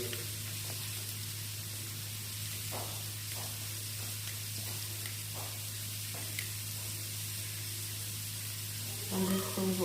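Fish frying in hot oil gives a steady low sizzling hiss, with faint crackles and soft background noise throughout.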